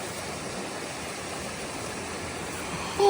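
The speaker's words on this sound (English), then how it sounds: "Look at the waterfall." A waterfall on the Pinhoti Trail, where the trail runs like a river, gives off a steady, even rush of falling water that holds constant throughout, with no talking.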